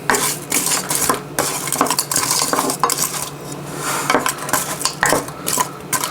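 Ingredients for chicken soup are stirred in a pot with a utensil, giving continuous close clattering and scraping of metal on cookware, with a faint sizzle underneath and no voices.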